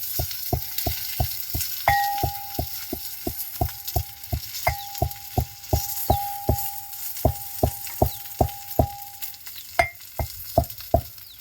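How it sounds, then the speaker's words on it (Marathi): Alu vadi pieces shallow-fry in a little oil, with a steady sizzle under repeated sharp taps and scrapes of a spatula against the pan in a regular rhythm. "थोडंसं तेल टाकून कधी साईडने असं तेल टाकून भाजून घ्यायच्या"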